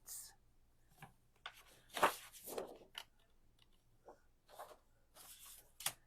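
Scoring and cutting a 12x12 sheet of cardstock into pieces for a folio, heard as quiet scattered scrapes and slicing strokes, with a louder burst near the middle and brief rustles of paper handling.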